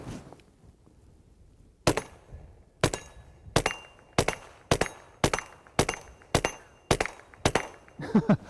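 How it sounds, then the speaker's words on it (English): About ten sharp gunshots crack in an uneven rhythm at an outdoor range, each followed by a brief metallic ring from a steel plate target roughly 15 to 20 yards downrange. "You can probably hear that steel plate getting rung down there."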